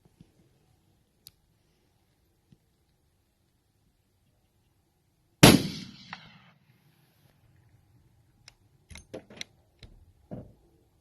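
A single sharp gunshot rings out during a hunt, a loud crack followed by a decaying echo, then quieter clicks and handling noises with a few faint bursts afterward.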